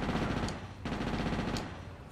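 Rapid automatic gunfire rattles from a gun in GTA Chinatown Wars, two fast bursts of dense shots up close, broken by a brief pause.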